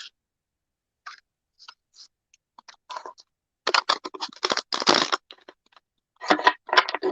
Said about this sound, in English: Just need to shuffle.